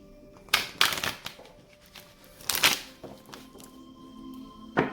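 Tarot cards are shuffled by hand in a few quick, crisp bursts, each a close riffle or flutter followed by short taps and thuds, with quiet gaps between and no talking.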